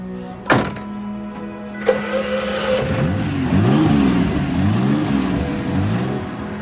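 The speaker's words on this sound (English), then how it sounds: "It has a mid-mounted Jaguar V12 engine" Two sharp thunks, then a car with a mid-mounted Jaguar V12 fires up and revs loudly in repeated rising and falling sweeps, close and unaccompanied.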